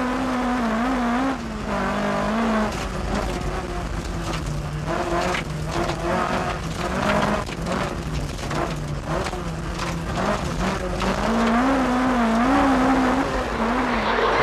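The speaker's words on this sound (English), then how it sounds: "As Stephen gets to work in his two-wheel drive Manta" A two-wheel drive Opel Manta rally car on a 1992 stage, the engine loud and close as it revs up and down through gear changes, with skidding on the road surface and no voices.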